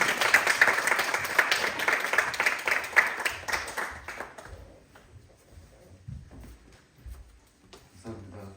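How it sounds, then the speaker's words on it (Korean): An audience in a church teacher-training gathering applauds to welcome a pastor as guest speaker, with warm, dense clapping for about four seconds that then thins out into scattered claps and room noise. "뜨거운 박수로 환영하겠습니다"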